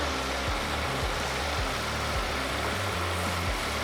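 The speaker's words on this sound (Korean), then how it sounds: "엔진 소리 일정하고 좋습니다" Kia All New Morning engine running, heard from the engine bay as a steady low idle hum with faint regular pulsing, close and continuous with no voices.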